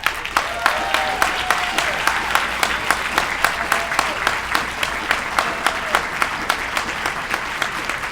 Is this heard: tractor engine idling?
no